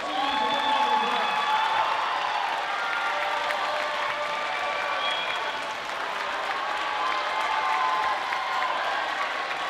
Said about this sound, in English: Everybody, let's give our seniors a round of applause.